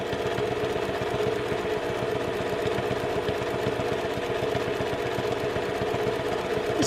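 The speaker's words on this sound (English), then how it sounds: "I'm stitching on that green line" A sewing machine runs steadily, stitching a fabric scarf holder along a marked line, with a continuous mid-pitched motor hum and rapid needle chatter that holds level for about seven seconds without talk.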